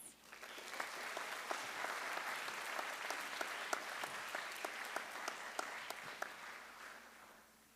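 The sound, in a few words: applause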